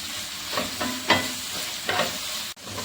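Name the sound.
sautéing ginger, garlic and green chillies in a pan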